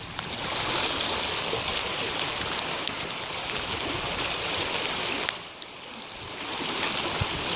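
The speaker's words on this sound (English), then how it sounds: "This is the very beginning of the flash flood that is to come." Flash flood water rushing down Shingle Creek on a June day, a steady, dense roar of churning water that stays loud and close throughout with no voices.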